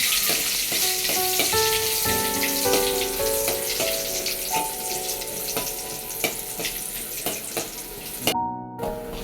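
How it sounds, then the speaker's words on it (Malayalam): Shallots and popped mustard seeds frying in hot oil give a steady, close sizzle that runs throughout with a few faint stirring knocks, and a background tune plays softly underneath. "കടുകൊക്കെ പൊട്ടി വന്നപ്പോഴത്തേക്ക് ലേശം ചെറിയുള്ളി ഇടുന്നുണ്ട് കേട്ടോ"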